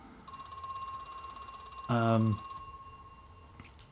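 Old-fashioned telephone in the horror game Crow Country rings once in a short, loud electronic trill burst over a quiet humming background, with a faint tone before and after.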